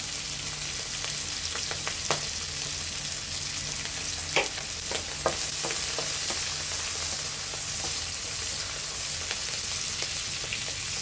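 Garlic sizzles and fries steadily in a hot pan for a Bangladeshi prawn and hilsa fish mash, a continuous close crackle with occasional sharper pops and brief spatters throughout.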